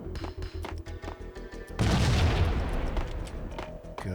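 Rapid rhythmic gunfire crackles in the Max Payne video game, then a loud booming explosion bursts in and rumbles away, with scattered shots continuing as it fades.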